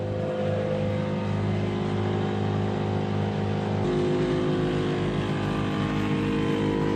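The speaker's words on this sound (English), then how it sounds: "That vibration noise is like is the air compressor. It's filling up the tank in the back." An air compressor fills a tank in a Toyota AE86, a steady mechanical drone with a low vibrating hum, even and unbroken throughout.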